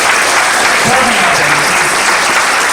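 Loud, dense applause from a large audience at a business motivational meeting, continuous and close throughout with a faint voice underneath.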